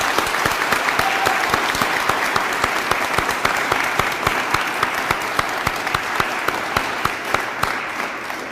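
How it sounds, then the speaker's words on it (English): Sustained audience applause at a teacher awards ceremony, honouring winners of a Prime Minister's Award; dense, steady clapping from a large crowd holds at an even level throughout, with no talk over it. "I don't think we gave them a loud enough round of applause."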